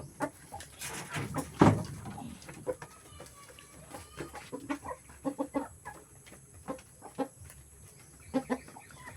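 Hens cluck in short irregular bursts around a farmyard, close and moderately loud, with one louder squawk early and scattered clucks continuing across the stretch.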